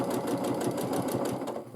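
A sewing machine quilting dot to dot across triangles in a quilt top, running continuously with a steady rapid needle rhythm, close and fairly loud with no talk over it.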